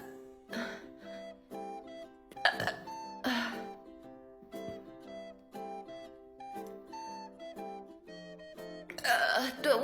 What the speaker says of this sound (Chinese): 因为我现在不是纯打嗝，我现在还在反胃，我现在还在就是反嗝气出来